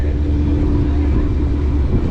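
A Whipple-supercharged Ford Mustang GT S650 with a 5.0 V8 and a 375 pulley rumbles at a steady idle close by, a loud, even drone with no revving.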